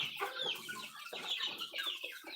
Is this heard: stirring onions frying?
no